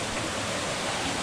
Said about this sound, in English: I'm gonna show you the waterfall real quick the best I can.